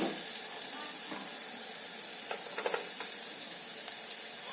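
Garlic frying in a pan for homemade tomato soup, a steady broadband sizzle throughout with a few faint clinks of stirring midway, close and even in level, no voices.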